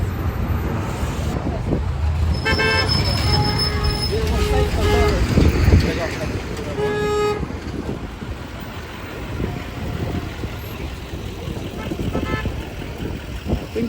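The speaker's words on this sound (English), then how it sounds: "I think the bus is coming." Street traffic with passing vehicles and a bus, a loud rumbling roadway wash with wind buffeting and tonal horn-like toots around the middle.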